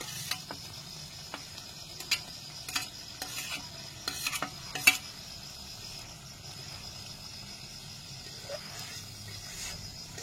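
Fried fish dropped into a watery curry with salt in a pan, scraped and stirred with a utensil in sharp sporadic clanks over a faint, steady sizzle, with no talking.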